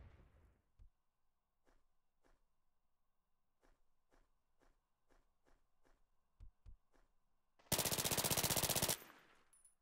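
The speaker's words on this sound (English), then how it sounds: "Stay still. I'm trying to shoot you." Video game gunfire in a raid: a steady string of sharp single shots roughly every half second, then a loud sustained burst of rapid automatic fire near the end, no talking.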